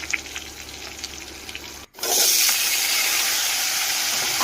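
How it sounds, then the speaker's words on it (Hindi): Onions hit hot oil in a wok after a brief quiet moment, breaking into a loud, steady, close hiss of frying that continues unbroken to the end. "कढ़ई बसई दमा यहाँ तेल ढाली कर प्याज भाजी दमा।"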